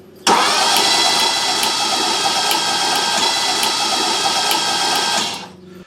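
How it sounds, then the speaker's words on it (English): A Ferrari V8 being rebuilt in a home garage cranks briefly, then catches and settles into a loud, steady run with a bright buzzing tone that lasts several seconds before cutting off. "first start, crank it over"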